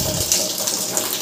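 Water gushes steadily from a tap into a container at home, a close, continuous splashing rush with no speech.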